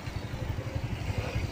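A motorcycle engine chugs in a low, steady pulsing rhythm, close by and moderately loud, on a street in central Goiânia.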